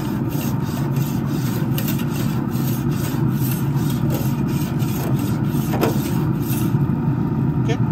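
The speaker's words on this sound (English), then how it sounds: "Let's go ahead and start with the scraper." Barbecue grill scraper dragged back and forth across grill grates, a steady series of rough rasping scrapes close up, with a voice faintly present underneath.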